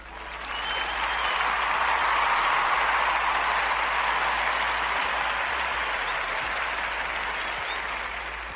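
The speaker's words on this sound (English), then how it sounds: "give him some applause" A studio audience breaks into sustained applause, a thick, continuous patter of many hands that swells in over the first second, holds steady and full, then tapers slightly toward the end, with no talking over it.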